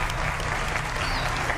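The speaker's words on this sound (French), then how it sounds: "Applaudissez pour le griot" A television studio audience on a talk show bursts into loud, dense applause for a griot, a continuous close clatter of many hands filling the whole brief moment.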